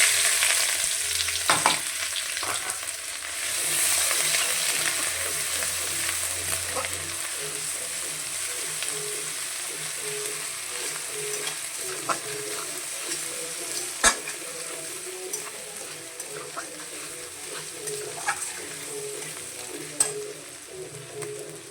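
Steady oily sizzling of ginger, cumin and spices frying in a pan, with occasional stirring scrapes and clicks, continuous and close throughout.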